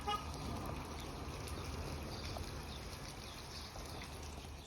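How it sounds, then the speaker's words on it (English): A waterfall flowing outdoors, a constant broadband rush of falling water heard at moderate level without pause, with no talking. "Now here's the waterfall."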